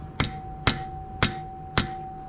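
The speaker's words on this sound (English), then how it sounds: "Take it out, put it on the other cylinder, and then give it a couple whacks." Four evenly spaced sharp metallic whacks strike an extension set in a two-stroke engine cylinder, each ringing briefly, close and clear with a faint steady hum behind.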